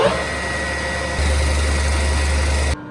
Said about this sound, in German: Also ich plane jetzt hier die Seite